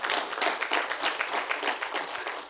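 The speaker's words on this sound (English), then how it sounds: "I honestly don't know why that always gets the applause" A live audience at a PowerShell programming talk breaks into steady, dense applause, many hands clapping loudly and evenly for the full couple of seconds with no voices over it.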